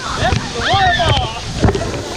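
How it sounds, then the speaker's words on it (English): Rushing water at a waterfall in Colombia, a steady broadband roar running throughout beneath loud, excited shouting voices. "That's the waterfall!"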